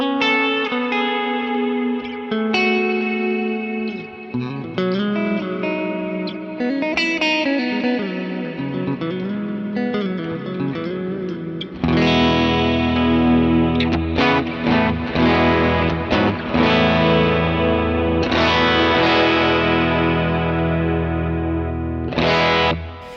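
An electric guitar through a Vox AC30 amp patch with reverb rings out in loud, sustained chords and melodic notes that bleed into a lush wash of reverb, played continuously with no voices.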